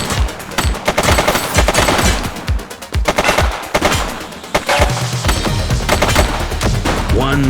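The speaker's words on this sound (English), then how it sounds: "She's shooting!" Rapid gunfire in The Precinct police action game, loud close bursts of repeated shots in quick rhythm, with brief game voices in between.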